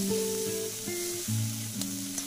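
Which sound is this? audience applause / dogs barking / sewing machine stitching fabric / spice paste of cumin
spice paste of cumin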